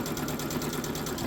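A sewing machine stitches a back stitch along a marked line, its needle mechanism whirring steadily with a fast, even mechanical rhythm, close and continuous throughout.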